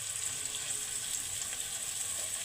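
Shrimp and onion fry in a pan with a bit of dried chili powder, giving a steady, even sizzle that holds at a moderate level without break or voices.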